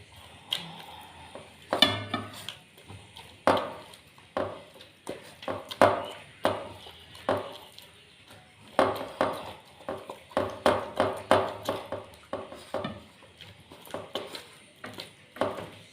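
Chilled cream (malai) from A2 milk churned by hand to make desi ghee, giving close, rhythmic scraping and sloshing strokes that repeat steadily every second or so, with no voices.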